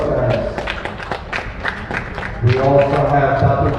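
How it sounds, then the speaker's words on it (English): Crowd applause for VIP guests at the men's grand finals of an Asian Heyball Championship, a steady patter of clapping mixed with crowd noise, and a voice speaking over it near the end. "Give a round of applause, guys"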